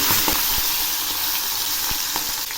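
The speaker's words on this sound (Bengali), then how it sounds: "এখন আমি একে একে মাছগুলো ছেড়ে দিচ্ছি।" Rohu fish heads sizzling as they are dropped one by one into hot mustard oil in a kadai, a steady loud hiss broken by a few sharp pops and spatters.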